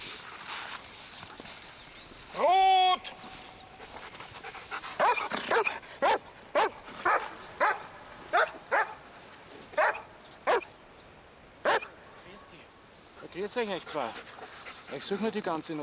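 A tracker dog in the mountains yips and whimpers, then gives a series of sharp barks at a steady pace, with panting breaths and voices talking in the background.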